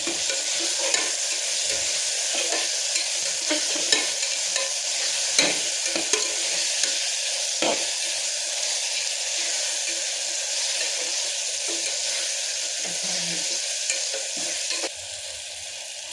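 Pulao masala is stirred and fried in a pan, giving a steady sizzling hiss with repeated scraping strokes of the spoon over about sixteen seconds and no talk.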